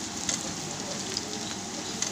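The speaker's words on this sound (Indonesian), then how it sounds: "sebelahnya saya juga lagi menggoreng bawang ya" Onions frying in a pan of hot oil give a steady, dense sizzle with faint crackles, running evenly and fairly quietly close by with no talking.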